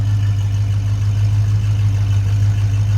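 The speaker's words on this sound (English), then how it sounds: "Listen to that, good sounding engine." A 1971 Buick Skylark with a Buick 350 V8 idles, a steady, loud low rumble with a constant hum, close and alone with no talk.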